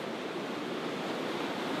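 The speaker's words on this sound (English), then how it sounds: "I'm just waiting for the waves to start crashing over the rocks now" Waves crash over the rocks at Dunraven Bay beach in Southerndown, Wales, giving a steady, full, hissing roar of surf with no breaks and no voices.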